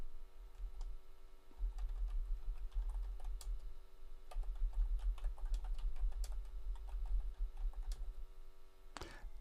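Someone types on a computer keyboard, and quiet, close clicks of the keys come in quick irregular bursts with short pauses, with no talking.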